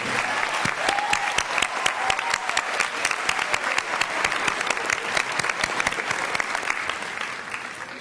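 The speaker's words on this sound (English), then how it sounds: "give an extra round of applause for our graduating senior band members" A graduation audience applauding graduating senior band members, dense sustained clapping with sharp individual claps standing out, steady throughout and moderately close.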